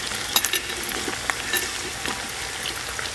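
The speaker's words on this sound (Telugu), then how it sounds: "ఇవన్నీ ఒకసారి కలుపుకోవాలి" Beans, carrot and potato pieces for vegetable pulao sizzle in a pan as they are stir-fried, with a steady crackle and soft scraping stirring knocks close up and no talk.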